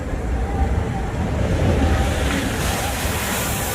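Water from the Aquaman water coaster at Six Flags Over Texas rushes and splashes in a continuous loud wash of spray, with wind-like noise over it.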